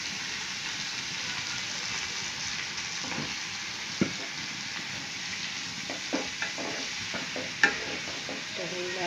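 Leafy greens frying in a pan, a steady hiss of oil with occasional scrapes and clicks of a stirring utensil, no talk.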